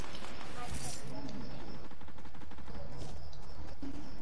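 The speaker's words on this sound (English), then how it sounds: "Is that you shooting?" Gunfire in the battle royale game Fortnite, a rapid rattling series of shots at moderate distance running through most of the stretch, with voices talking over it.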